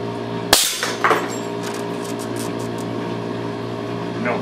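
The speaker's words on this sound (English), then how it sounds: "Let's see if we can hit this with the 25 caliber BB gun." A homemade .25 caliber BB gun fires one loud, sharp crack at a can 10 meters downrange, followed moments later by a fainter metallic hit ringing over a steady background hum.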